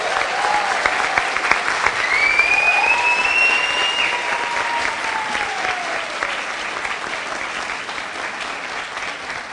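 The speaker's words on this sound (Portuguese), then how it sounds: "eu queria pedir realmente um salva de palmas para a Patrícia." A symposium audience on drugs applauds at a closing ceremony, steady dense clapping throughout with a few faint whistles rising above it.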